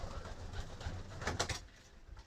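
Several pigeons coo inside a loft in a close, continuous throaty chorus, with brief louder swells near the middle.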